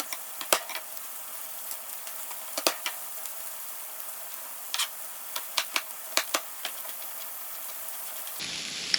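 Onions and garlic fry in smoking-hot oil, giving a soft steady sizzle punctuated by scattered sharp crackles and pops, close and alone without voices.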